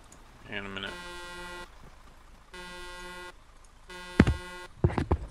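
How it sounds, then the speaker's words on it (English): A car horn in Arma 3 gives three long, steady honks with short gaps between them. Voices and game noise come in near the end. "Honk."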